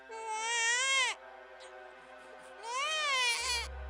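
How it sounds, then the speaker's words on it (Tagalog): Infant crying used as a sound effect in a Tagalog horror story: two long, loud, wavering wails separated by a short pause, close and alone, with a low rumble starting at the end. "may narinig akong iyak ng sanggol"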